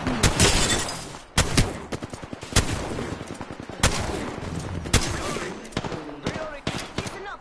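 Gunfire in the video game Apex Legends comes as loud, close bursts of rapid automatic shots and single cracks. The bursts repeat irregularly across the stretch, with players' voices talking between and under them.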